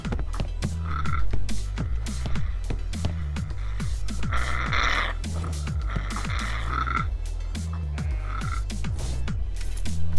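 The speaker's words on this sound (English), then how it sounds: "The frogs are everywhere." Frogs croak constantly in a dwarf-themed multiplayer video game, a dense chorus of rapid, overlapping low croaks with bursts of higher calls, loud and close throughout without speech.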